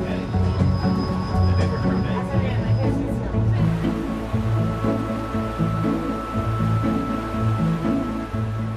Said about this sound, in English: We're traveling on one of the world's most scenic railway journeys through the stunning landscape of northern Mexico